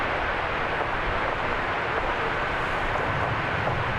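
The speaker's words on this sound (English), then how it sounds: "here is our look at incoming aircraft" Aircraft approach DFW Airport in the evening, a steady, distant broadband jet rumble and rush that holds even in level without breaks.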